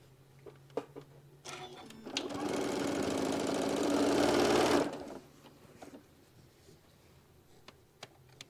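A sewing machine stitches a quarter-inch seam in one continuous burst of rapid whirring lasting a couple of seconds, framed by quiet handling clicks and rustles before and after.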